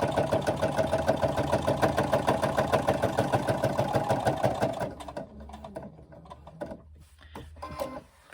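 A sewing machine stitches rapidly and steadily down the side of a handbag pocket for about five seconds, then stops, leaving a few faint clicks and handling noises.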